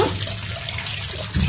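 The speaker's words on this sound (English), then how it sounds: "Put the tap on nice and like to keep it going, lots of water coming up." Hot water running steadily from a household tap, a continuous splashing rush close by, with a brief louder low thump near the end.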